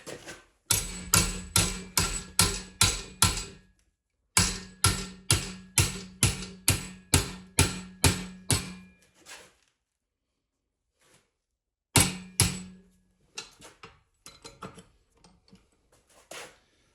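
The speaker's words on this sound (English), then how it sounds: "I'm just going to belt this until I get it to a 90" A steel frame piece clamped in a vise is hammered to bend it to a right angle, giving loud, sharp metallic blows in rapid regular bursts of about ten strikes, separated by pauses, with scattered lighter taps at the end.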